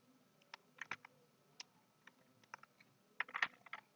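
Quiet computer keyboard typing: scattered soft key clicks, then a quicker cluster of keystrokes ending in an Enter press, close and with no talk.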